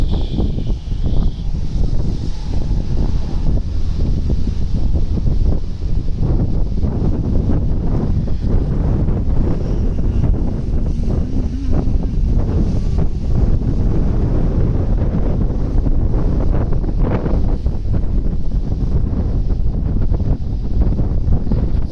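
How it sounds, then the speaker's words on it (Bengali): Strong wind buffets a fishing boat out at sea on an overcast early monsoon morning, a constant loud roar with gusting rumble across the whole stretch and faint water and hull sounds beneath. "বাতাস।"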